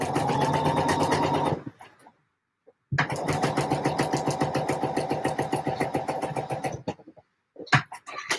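A home sewing machine stitches fabric for a Butterick 6380 garment, running in two close, steady bursts of rapid rhythmic needle clatter separated by a short pause, with a brief extra whir near the end.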